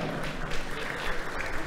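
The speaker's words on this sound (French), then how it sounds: "Je pense qu'on peut les applaudir bien fort" Spectators at an international pétanque tournament in Monaco applaud, a brief burst of dense clapping from the crowd lasting under two seconds.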